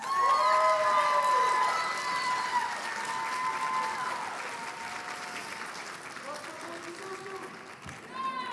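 A crowd at a graduation pinning ceremony breaks into loud, sustained applause with some cheering and shouting, strongest at first and then easing to a steady patter of clapping while people talk over it.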